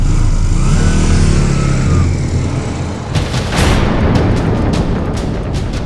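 A motorbike engine roars and revs loudly and steadily nearby, then pulls away with a rising rush of noise; no talk over it.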